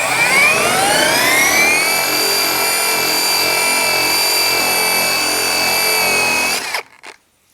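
A Seesii surface conditioning tool fitted with an 80-grit fibrous wheel spins up at speed 6, a loud close whine rising in pitch then holding steady for several seconds before cutting off and winding down.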